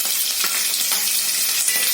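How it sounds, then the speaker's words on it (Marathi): Curry leaves and green chillies crackle in hot oil right after cumin goes in, a tempering for soyabean curry; a steady, close, dense sizzle with small pops runs throughout, with no voices. "कढीपत्ता आणि हिरवी मिरची ती पण टाकून घ्यायची."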